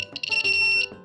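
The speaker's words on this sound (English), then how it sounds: "If you do touch, the buzzer will sound with a beep." A short electronic beep from the buzzer of an E-Blox Circuit Blox buzz wire challenge game, a shrill high tone lasting under a second.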